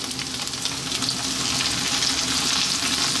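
Fresh chili and garlic ginger paste sizzle loudly in a hot pan for a tuna curry: a constant, close crackling fry with a light wet hiss and no talking.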